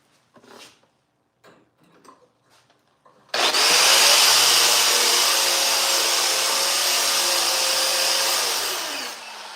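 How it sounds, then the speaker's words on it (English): A wire wheel scrubbing slag off a gasless flux core weld, starting abruptly after a few faint clicks and handling noises, then a loud, steady high-pitched whirring grind lasting several seconds before tapering slightly. "I can fix that with a wire wheel."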